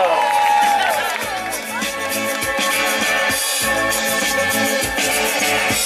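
A crowd applauds and cheers for a couple at a surprise romantic serenade in São Paulo's east zone, a steady dense wash of clapping and voices lasting throughout, with a speaking voice carried over it.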